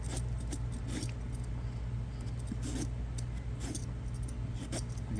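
A dull vegetable peeler scrapes the skin off an eggplant in a run of quiet, rhythmic strokes, soft scratchy swipes repeating close by with no talk.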